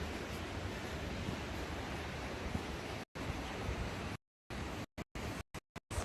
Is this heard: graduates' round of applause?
no